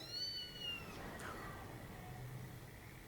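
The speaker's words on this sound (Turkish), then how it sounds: "tatlı bir kedi" A cat gives a short, faint meow at the start, followed by quiet background noise.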